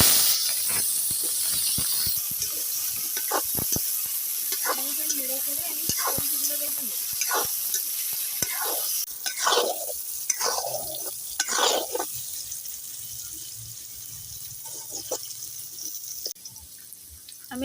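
Vegetables are fried and stirred in a wok for sabu khichuri, with a soft steamy hiss under intermittent scraping and clinking of the spoon. A voice is heard partway through.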